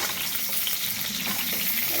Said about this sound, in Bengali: বেশি করে তেল দিয়েছি যাতে পটলগুলো সুন্দর করে ভাজা হয়।